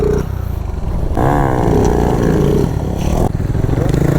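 A Bajaj Pulsar NS 160 motorcycle engine is held at high revs with the throttle pulled for a wheelie, loud and close, its pitch climbing in a sustained roar, then dropping and surging again.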